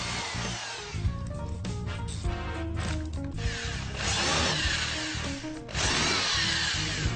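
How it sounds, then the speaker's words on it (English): A power drill whines continuously into a wooden frame while drilling and countersinking screw holes, with pitch shifts and brief pauses as bits bite and change, loud and close throughout. "we drill and countersink ready for assembly"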